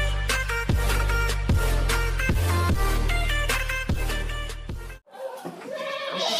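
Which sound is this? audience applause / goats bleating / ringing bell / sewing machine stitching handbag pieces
goats bleating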